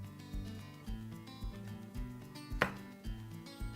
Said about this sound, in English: I actually much prefer to cut them in half first and then slice them up.